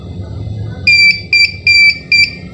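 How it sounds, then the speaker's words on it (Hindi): A CP Plus DVR's internal buzzer sounds four short, loud, evenly spaced electronic beeps, warning of a hard disk problem, over a quiet room hum. "एई डिबिआर एर मध्ये हार्ड डिस्कर एकटु प्रब्लेम आछे, तो तार जोन्नो एकटी बजार बीप आपनारा शुनते पाच्छेन"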